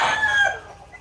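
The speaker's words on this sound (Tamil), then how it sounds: "ஒரு சேவல்லாம் ஒரு தடவை கூவும் நிறைய பே சேவல் இருக்கனால ஒன்று மாற்றி ஒன்று கூவிட்டே இருக்கும்" A rooster crows once, loud and close, with a drawn-out call that fades away within about a second, heard alone without speech.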